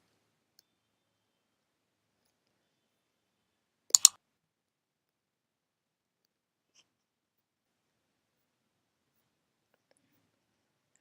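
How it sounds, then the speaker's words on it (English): A single quick double click of a computer mouse pressing a submit button in employee manager software, faint and isolated amid near silence. "And just click on the submit button."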